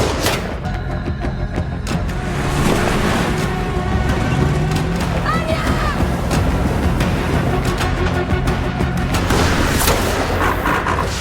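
Heavy gunfire and booming blasts in an action-film sniper scene, shots striking a car until it stalls, dense and loud throughout with sharp repeated cracks over a rumbling, chaotic background.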